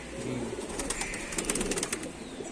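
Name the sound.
pigeons cooing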